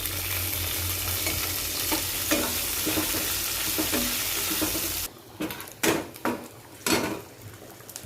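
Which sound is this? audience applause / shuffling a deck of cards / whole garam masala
whole garam masala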